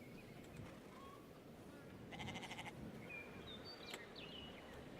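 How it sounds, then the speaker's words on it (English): Goats bleat in the farming video game Farmer's Life, a few short wavering calls over a quiet ambient bed, with one denser burst in the middle of the clip. "so we have our 5 goats"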